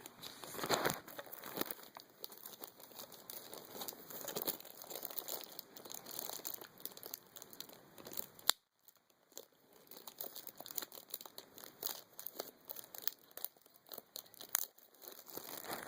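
Speaker packaging for NVX component speakers being ripped open, with bursts of crinkling and tearing plastic and cardboard close by, a brief silent gap midway, then more crinkling; no talk.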